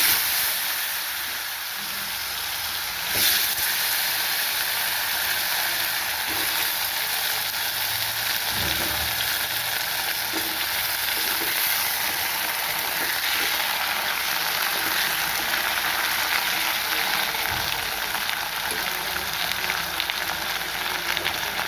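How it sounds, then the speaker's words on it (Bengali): Dal lentils boil in a pot with a steady bubbling hiss and occasional soft pops, continuing evenly for the whole stretch without any talk. "ডাল সেদ্ধ হচ্ছে"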